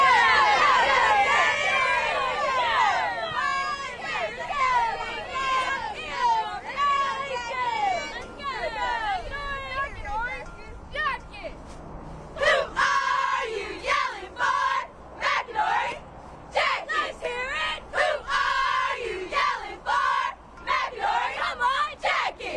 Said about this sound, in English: Do a little cheer?